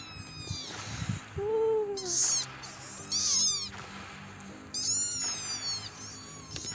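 Several cat meows from a cat in a village bathhouse, repeated in short bursts with pauses between, fairly close against a quiet rural background.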